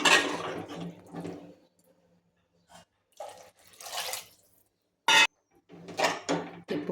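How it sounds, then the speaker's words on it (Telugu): Water is poured into a pan of dry fish, brinjal and egg curry with tamarind juice, coming in several short uneven splashes and gurgles separated by pauses, close and moderately loud. "కొన్ని వాటర్ పోసుకోండి"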